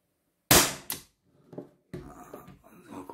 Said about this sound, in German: und jetzt nächster Schuss.